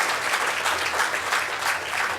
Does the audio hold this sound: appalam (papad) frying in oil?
no